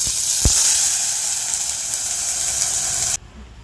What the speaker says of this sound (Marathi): मोहरी तडतडणार, त्यामध्ये 2 चमचे मोहरी घालायची आणि वरून थोडंसं हिंग घालायचं